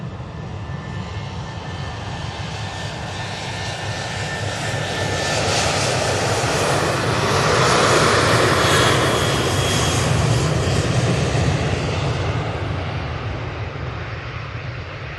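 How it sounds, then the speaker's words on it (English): A Boeing 737-800 takes off from Manchester Airport on a flight to Belfast, with a loud sustained jet roar that swells to a peak midway and then slowly eases, heard alone and without talk. "This one's off to Belfast,"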